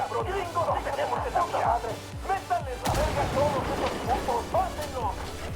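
Gunfire in Ghost Recon Wildlands, scattered rifle shots cracking in irregular bursts with a heavier burst partway through, mixed with radio chatter and voices underneath.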